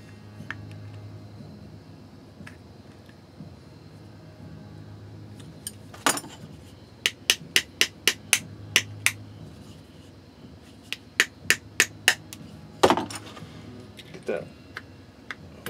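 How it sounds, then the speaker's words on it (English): Sharp metallic hammer strikes flattening metal pieces, in quick, evenly spaced bursts, two runs of about eight blows each, close and loud over a quiet background. "And I like to hammer them flat."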